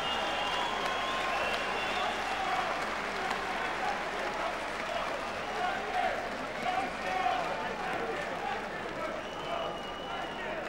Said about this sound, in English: And a round of applause, please, for our game ex-champion, Wayne Elcock.